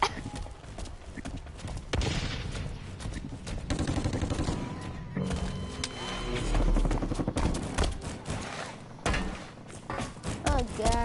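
Rapid video game gunfire in a shooter match, with dense bursts of shots running through the clip among clattering in-game effects, loud and close, with a player's voice talking at moments.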